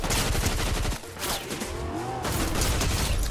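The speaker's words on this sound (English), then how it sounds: "I got shooting at me at the same time" Rapid bursts of gunfire in the video game Fortnite, loud and dense, with a brief lull before more sustained shooting resumes.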